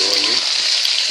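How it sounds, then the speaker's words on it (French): Potatoes and carrots are stirred in a pot of fish broth, a loud, steady bubbling sizzle with soft wet movement throughout the short moment. "Et je remue."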